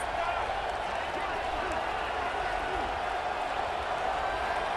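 A stadium crowd at a Notre Dame vs LSU football game roars in a steady, dense wall of cheering and noise that holds constant throughout, loud and enveloping, with no single voice standing out.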